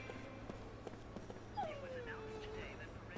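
In the Lost Odyssey video game, a dog lets out a single high, falling whimper partway through, faint over quiet background sounds.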